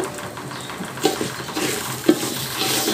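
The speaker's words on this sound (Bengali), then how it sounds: "চাল ভাজার সময় 2টা কাঁচামরিচ আস্ত দিয়ে দেব" Rice fries in a pan with two whole green chilies, giving a soft continuous sizzle broken by a couple of sharp scrapes and taps as it is stirred.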